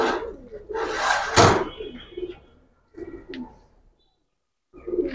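A female fancy show pigeon coos in soft, rounded bursts, close by, with short pauses between phrases and a brief louder flutter-like rush in the middle.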